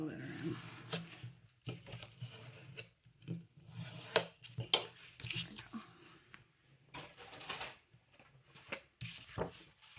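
Light cardstock for a junk journal being trimmed, giving repeated rubbing, rasping cuts and paper scrapes in irregular bursts, close and fairly quiet, with no speech over it.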